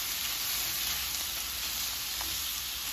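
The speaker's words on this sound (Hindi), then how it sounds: "ये जो चिकन हमने फ्राई करके निकाला है अच्छे से, इसको ऐड कर दूंगी और अच्छे से मिक्स कर लेती हूँ" Fried chicken is tossed into Manchurian sauce in a hot pan, giving a close, continuous sizzle with soft stirring scrapes and no talking.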